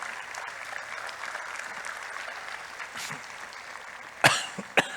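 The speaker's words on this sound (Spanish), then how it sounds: "Dale un fuerte aplauso al Señor." A church congregation applauds in a steady, moderate patter of clapping, followed by a couple of sharp nearby coughs near the end.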